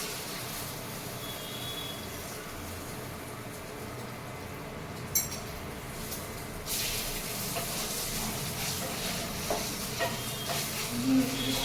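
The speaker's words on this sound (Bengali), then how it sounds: "লাল লাল কড়া কড়া ভাজা হবে" Leftover chicken fries in oil in a pan until crisp and red, giving a steady broadband hiss that grows louder and denser partway through, with a few faint clinks and no talking.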